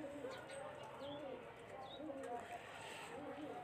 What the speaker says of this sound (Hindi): वाइट आंख का गलवा कबूतर।